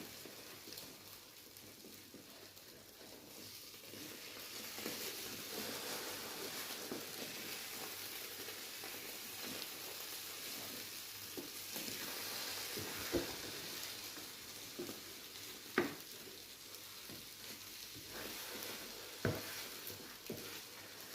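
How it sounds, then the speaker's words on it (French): Omelette being stirred in a frying pan, a faint steady sizzle with soft scraping strokes and a few louder clinks of utensil against the pan, heard quietly and alone. "Vous voyez, quand je vous dis tout le temps remuer, regardez, ça colle sur les côtés."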